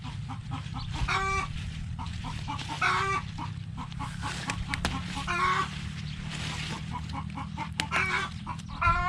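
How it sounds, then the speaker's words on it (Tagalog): A hen clucks loudly and repeatedly before laying an egg, sharp nearby cackles arriving every second or two over a steady low rumble of outdoor background noise. "Kapag gumaganon daw yung manok, mangingitlog."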